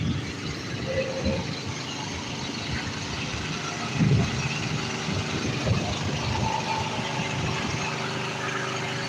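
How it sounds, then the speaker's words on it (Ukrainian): Engine-driven generators run outside small shops and cafes on a city street during a wartime power blackout in Ukraine, a steady continuous drone with low rumble, traffic-like noise around it and a brief louder swell midway. "Кожен магазинчик має, кожне кафе має генератор."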